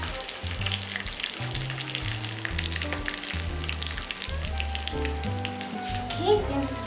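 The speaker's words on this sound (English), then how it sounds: "once the oil is heated up, just going to add 1 to 3 bay leaves in it." Bay leaves sizzle and crackle in hot oil, steady frying hiss throughout, with low background music or tones underneath.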